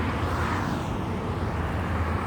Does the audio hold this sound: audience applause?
no